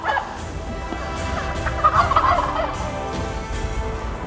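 Wild turkey calls, fairly loud, with a short burst of rapid gobbling notes in the middle of the stretch over a steady outdoor background and no voices.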